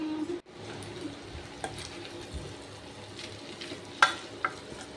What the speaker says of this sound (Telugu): చికెన్ మసాలా వేసి మొత్తాన్ని మిక్స్ చేస్తున్నాను